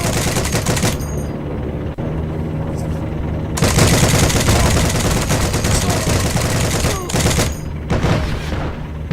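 Loud, rapid automatic gunfire in a war video game, sustained bursts of shots with brief pauses between them, close and dominant throughout.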